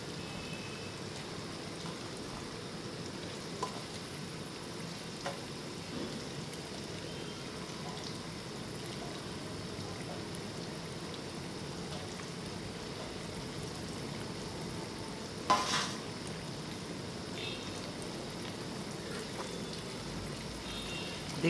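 Chicken pieces frying in a pan for a Bengali chicken curry make a steady, rain-like sizzling hiss, fairly quiet and unbroken, with one brief clatter partway through.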